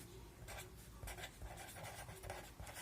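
A pen writes on paper during a school maths lesson, a soft scratchy stroke sound repeating in short bursts, faint and close, with no talk over it.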